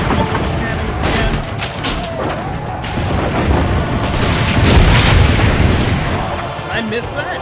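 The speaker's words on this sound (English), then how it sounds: "just use the cannons again." Cannons fire in the Assassin's Creed Brotherhood video game, with heavy booms and crackling blasts rolling over a dense battle din. Voices talk and shout underneath throughout.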